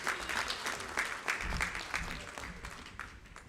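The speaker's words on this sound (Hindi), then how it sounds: "जोरदार तालियां बजनी चाहिए।" Crowd applause at an official event in Delhi, many hands clapping in a dense wash that is strongest at the start and gradually thins and fades toward the end, with some low rumble and no talk.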